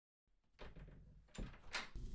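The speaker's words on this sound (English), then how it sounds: "I'm coming to open the door." A door being opened indoors late at night: a soft shuffle, then a few close, firm thuds and clatters of the latch and panel, with no talking.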